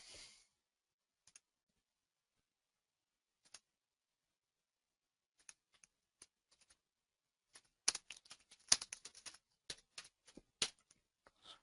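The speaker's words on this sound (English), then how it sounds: "I apologize for the typing there" Keys clatter softly on a computer keyboard during accounting software data entry. Isolated taps in a quiet room give way to a quick run of typing, with no talk.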